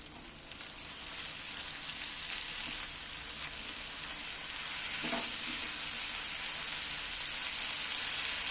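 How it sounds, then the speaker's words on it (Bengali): Ginger garlic paste fries in hot oil as it is stirred in a pan for an egg curry, making a steady, dense sizzle that stays even and close throughout, with no voices. "এবারে তেলের মধ্যে আদা রসুন বাটাটা ভালো করে আমি নাড়াচাড়া করে নেব"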